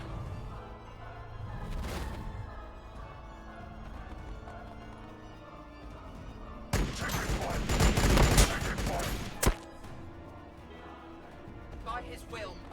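Gunfire bursts in Warhammer Battlesector, the Adepta Sororitas side under fire: a dense, loud volley of shots for a few seconds mid-clip, with quieter battle noise and a voice speaking around it.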